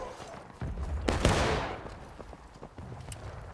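Musket volley fire in War of Rights, a Civil War battle game set around a graveyard: a loud burst of massed shots near the one-second mark, then a ragged scatter of more distant reports.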